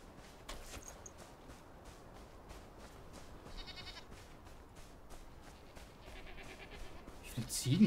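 Goats bleat a few times amid Enshrouded game ambience, with soft footsteps and clatter; the bleats are moderately loud and spaced out.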